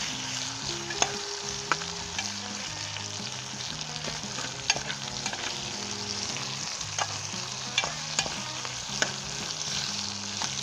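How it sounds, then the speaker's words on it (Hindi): Potato and brinjal frying in a pan make a constant close sizzle with occasional sharp clicks of stirring, while a tune of background music plays underneath throughout; no voices. "जस्ट 1 मिनट के हम इसे फ्राई करेंगे"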